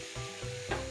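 Sea fish stir-frying in a home pan, with steady close sizzling and intermittent stirring scrapes, heard without speech.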